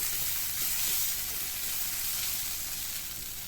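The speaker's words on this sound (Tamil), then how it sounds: "இந்த சமயத்தில் பச்சை மிளகா 2ஐயும் இஞ்சி பூண்டையும் போட்டு இதையும் பச்சை வாசனை போகிற அளவுக்கு நம்ம இதை நல்லா வதக்கிக்கலாம்." Green chillies, ginger and garlic sauté in a hot pan, giving a steady, close sizzling hiss that holds at an even level throughout, with a few faint stirring scrapes and no talking.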